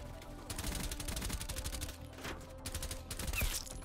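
XM4 assault rifle fire in Call of Duty Cold War multiplayer: fast, loud bursts of rhythmic shots layered over game effects, pausing briefly mid-clip then resuming, with no talk.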